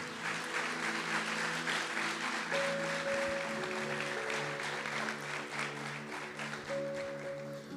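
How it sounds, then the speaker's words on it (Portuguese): A church congregation claps during a service, with steady applause from the crowd over sustained organ or keyboard notes that hold underneath throughout. "Dá uma salva de palmas para o nosso Deus então,"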